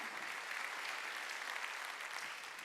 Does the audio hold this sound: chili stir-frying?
no